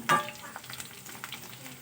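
Leftover rice frying in a pan for a Bengali bhat bhaja, a soft sizzle opened by a sharp clink, then light, irregular stirring scrapes close by.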